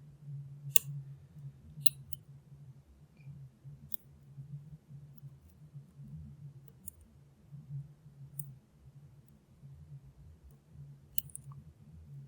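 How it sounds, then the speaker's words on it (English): Sharp, isolated clicks from a Chinese pin-in-pin MT5+ clone lock being picked, spaced irregularly every second or two over a steady low hum, close and fairly faint. "Bit of a click."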